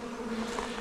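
Honey bees buzz steadily around backyard hives during installation of two package colonies, a continuous close drone with no talking.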